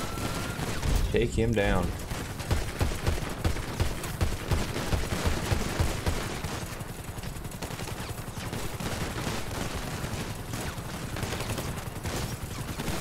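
Gunfire in GTA 5 with the LSPDFR police mod during a shootout with an armored gunman at the pier: a long, dense run of rapid, loud shots overlapping into sustained volleys, while voices shout over it.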